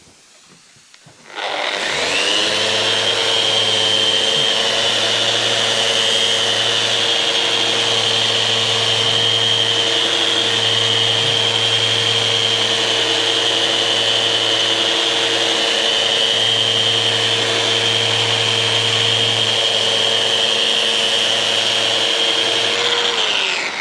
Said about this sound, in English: see if I can sand it with the Virutex